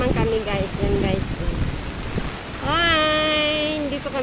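During heavy rain and wind in Sun Valley, Parañaque, floodwater rushes through a canal near a bridge with a continuous hissing, churning noise while a person talks over it close to the microphone.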